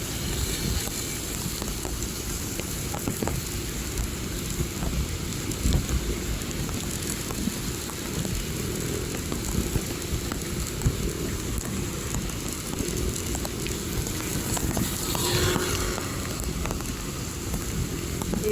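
Steady rain pours down close by, a dense hissing patter on surfaces that continues without pause, no talking.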